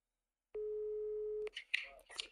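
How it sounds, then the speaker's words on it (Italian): A single steady telephone tone sounds for about a second as a call is placed, then a voice starts talking right after it stops. "Chiamiamo Zeb, però non ci siamo visti i numeri di telefono"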